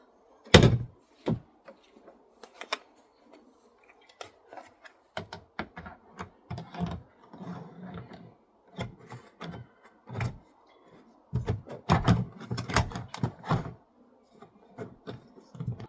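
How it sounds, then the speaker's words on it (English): A compost bin door being closed and pressed firmly into place during home composting, heard as a sharp knock followed by a string of scattered clicks, taps and plastic rattles, with a dense burst of close knocks toward the end. "So that's the door firmly on now."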